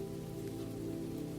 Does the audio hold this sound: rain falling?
yes